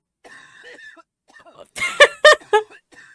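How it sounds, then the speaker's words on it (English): A man coughs in three or four harsh, loud bursts after some quiet murmuring. "I was not expecting a coughing man sound effect."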